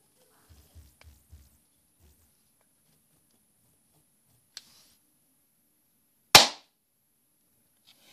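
Video game tanks driving over landmines: near-silence broken by faint low thuds, a small sharp pop, then one loud, sudden explosion that fades quickly.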